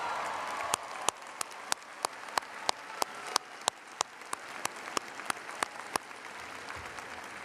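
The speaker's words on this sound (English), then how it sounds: "Give him a round of applause." Audience applause at a university commencement ceremony, a steady wash of many hands clapping with sharper individual claps popping out at a regular pace, moderately loud throughout.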